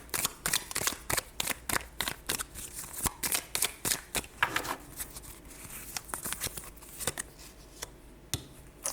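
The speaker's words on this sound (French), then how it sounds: "Je vais retirer encore une petite carte." Tarot cards being shuffled and drawn, a close series of crisp slaps and riffling flicks in an irregular rhythm with short pauses, fairly soft and with no one speaking.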